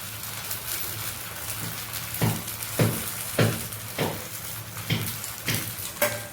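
Set dosa cooks with a little oil in a covered pan over a medium flame, giving a steady soft sizzle with a regular series of light taps or bubbling pops roughly every half second.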